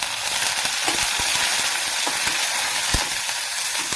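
Curry leaves dropped into onions frying in oil for Kerala prawn theeyal, a steady close sizzle with scattered sharp pops and crackles over about four seconds, no talking.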